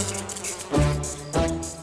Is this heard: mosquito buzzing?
yes